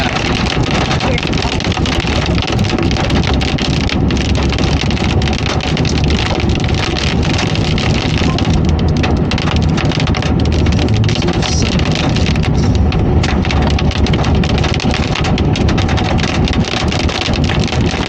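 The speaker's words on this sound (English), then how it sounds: "That looks like hail. That sounds like hail." Hail pelts a car driving into a storm, a loud, continuous rattle of impacts blended with road and wind noise, steady throughout.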